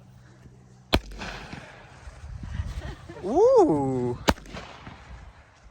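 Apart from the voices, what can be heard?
fireworks being set off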